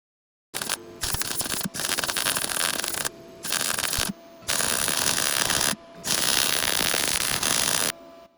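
A MIG welder lays down metal for 3D printing, its arc crackling and hissing in loud bursts of about one to two seconds separated by short silent pauses, close up, no voices.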